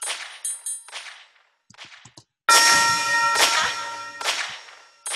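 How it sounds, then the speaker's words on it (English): Sharp, cracking gunshot samples in a drill music beat with half-note delay, each followed by a fainter repeating echo, loud and close with bright metallic ringing tails. "As you can hear, the gunshot is having this delay"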